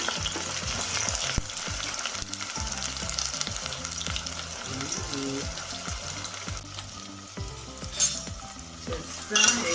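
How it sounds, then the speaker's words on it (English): Chopped onion frying in hot oil gives a steady, close crackling sizzle throughout, broken up by the scrape and clatter of stirring utensils against the pan, with no talking. "Just fry it until golden brown."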